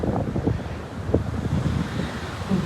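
Sea washing onto a sandy beach on the Turkish coast, a steady rushing surf mixed with gusty wind buffeting the microphone, continuous and fairly loud with no voices.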